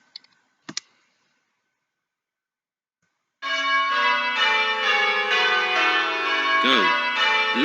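Church bells ringing in changes, a Little Bob minor method being plain hunted: a few faint clicks, then a sudden onset of overlapping bell strikes that ring continuously and loudly to the end.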